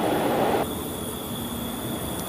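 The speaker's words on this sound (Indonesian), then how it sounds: "baru saja melintas kereta api Sabung Gali dari Pasar Senen tujuan akhir stasiun Kutoarjo" A passenger train runs along a hillside track, its steady rumble and rail noise loud and close at first, then easing into a lower continuous roar as the cars continue past.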